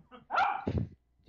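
A dog barks in the background of a podcast recording, one drawn-out bark-yelp that breaks into a rougher second burst, fairly close and alone.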